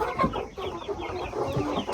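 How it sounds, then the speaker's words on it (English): Meat chickens cluck and chatter in a close flock, with overlapping short calls spread steadily across two seconds and no talking. "now we've got our meat birds"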